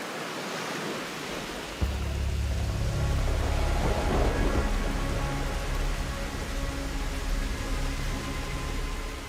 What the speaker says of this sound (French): Les heures passent, mais la pluie ne faiblit pas.